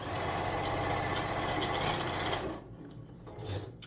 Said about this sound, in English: line it up as best we can, and sewing across the corner